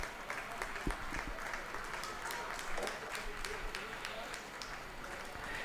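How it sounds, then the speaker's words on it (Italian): A crowd at the Bottecchia velodrome claps and applauds steadily at a cycling event, with a voice talking over the ongoing applause. "Con l'applauso del pubblico al velodromo Bottecchia."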